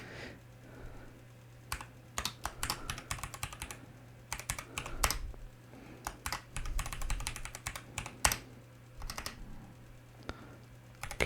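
Close, clattering bursts of computer keyboard typing as a root authentication command is entered on a Juniper vSRX, with short pauses between quick runs of keystrokes.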